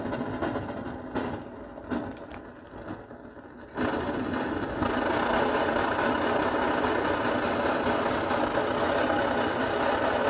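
Liquid-fuel camping stove, an MSR Dragonfly or Coleman 533, burning with a steady loud roaring hiss after a few sharp clicks and taps, the flame noise swelling and then holding constant and close.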